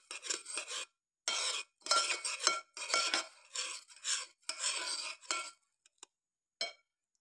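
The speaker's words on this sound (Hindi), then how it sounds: "इसको हमने मिक्स कर लेना है।" Spoon stirring cake batter with baking soda and vanilla essence in a bowl, a steady run of scraping, clinking strokes in short bursts separated by brief pauses, close and fairly quiet, no voices.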